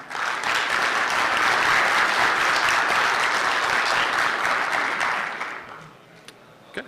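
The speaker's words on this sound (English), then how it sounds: "So please, everybody give a huge round of applause for Ryan Lackey." Conference audience at a security talk claps after a speaker is introduced, a dense burst of applause that holds steady, then fades out over the last couple of seconds.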